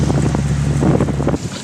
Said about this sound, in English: the left clip has the noises of the ship's engine and wind noise